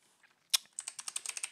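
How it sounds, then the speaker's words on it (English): Someone types a password on a computer keyboard while installing Kali Linux under Windows Subsystem for Linux. The keys click in a quick, fairly even run of about ten close strokes, with one louder tap just before the run starts. "So you just have to make sure you're typing that correctly."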